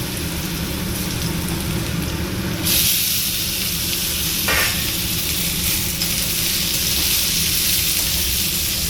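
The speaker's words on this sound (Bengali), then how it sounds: "এর উপরে দিয়ে দিলাম আলুগুলো।" Potatoes hit hot smoking oil tempered with fennel, fenugreek and nigella seeds, a loud steady sizzling hiss that flares brighter partway through and keeps frying on without pause.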